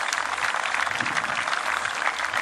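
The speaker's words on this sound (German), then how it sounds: "Und hier ist dein verdienter Applaus" Steady applause from a crowd at a flying display for a giant 65 kg scale model of the Short Sherpa SB-4, loud and continuous with dense clapping throughout and no break.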